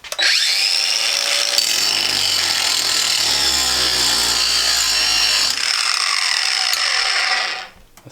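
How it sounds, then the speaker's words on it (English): A Craftsman V20 cordless angle grinder cuts a metal bolt thread down to the nut, giving a steady, loud, high-pitched grinding whine that holds for about seven seconds and then spins down at the end. "I'm just going to be grinding the thread down to the nut"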